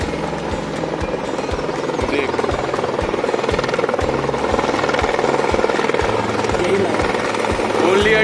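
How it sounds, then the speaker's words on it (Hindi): A helicopter on the Govind Ghat to Ghangaria route drones loudly and steadily as it comes in to land, its rotor thumping in a fast, even rhythm while people talk nearby. "तो हेलीकॉप्टर तो वैसी है ना, जहाँ पे उसे जगह मिलती है वहीं बैठ जाता है."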